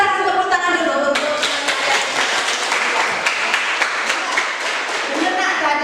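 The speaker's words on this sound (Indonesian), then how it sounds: "Kita kasih tepuk tangan dulu untuk" Classroom of students applauding a classmate during a lesson, dense steady clapping running throughout at close range, with a voice briefly audible at the start.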